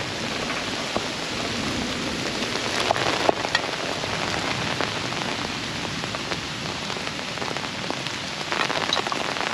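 Steady rain falls on a tarp strung up in the Georgia woods to collect rainwater, with a tent stake set to gather the flow. It is a dense, constant patter with occasional louder drips, and there is no talk.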